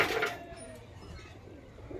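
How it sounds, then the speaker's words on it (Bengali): Pigeons coo while eating mustard seed and corn, a soft, low murmur of several birds nearby with a brighter burst at the start and steady cooing throughout. "দেখুন সব পায়রাগুলো সর্ষে খাচ্ছে, ভুট্টা দিয়েছে।"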